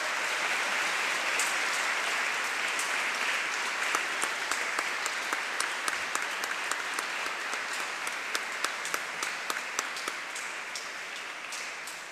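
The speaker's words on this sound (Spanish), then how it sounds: "Les damos también un fuerte aplauso." A church congregation gives steady applause for married couples during a festive Sunday Mass, a continuous wash of clapping with some crisp nearby claps standing out, fading slightly at the end.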